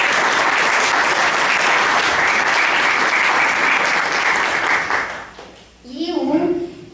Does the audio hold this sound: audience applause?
yes